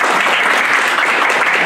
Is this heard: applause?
yes